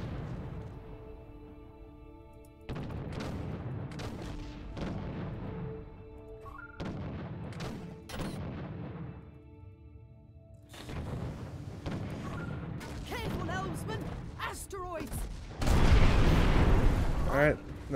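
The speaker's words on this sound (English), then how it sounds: "Target him. Discharge all weapons." Ship weapons firing in Treasure Planet: Battle at Procyon, with heavy cannon booms and blasts coming in repeated volleys that grow denser toward the end, alongside in-game speech.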